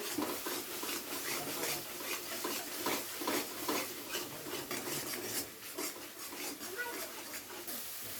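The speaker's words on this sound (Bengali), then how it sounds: "এবারে খুব ভালোভাবে সমস্ত মশলাগুলোকে কিছুটা সময় নিয়ে একটু কষিয়ে নিতে হবে।" Spices cook with garlic paste in a pan for a spicy egg curry while a spatula scrapes and stirs in repeated, rasping strokes. The sound is fairly quiet, and a voice can be heard around the stirring.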